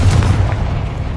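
Confringo blast spell in Hogwarts Legacy on PlayStation 5, a loud booming explosion with a heavy low rumble that fades out over about a second.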